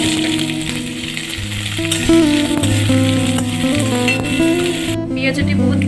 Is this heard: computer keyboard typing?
no